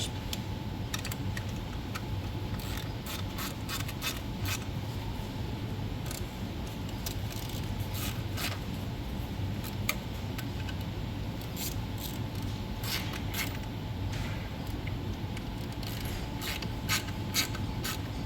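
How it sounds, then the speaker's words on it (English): A hand ratchet tightens the oil filter housing bolts on a 2011 Chrysler Town and Country, giving rapid, steady pawl clicks in bursts over a constant mechanical background hum. "we'll just use that hand ratchet"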